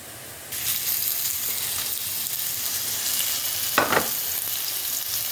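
Steady, dense sizzling of button mushrooms frying in a pan, with a brief louder crackle or stir near the end; no talking.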